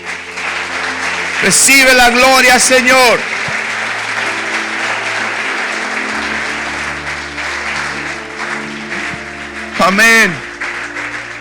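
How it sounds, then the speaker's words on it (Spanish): A church congregation breaks into loud clapping and cheering after a short spoken phrase in Spanish, with music sustained underneath; a second short burst of applause follows later. "denle un aplauso al Rey"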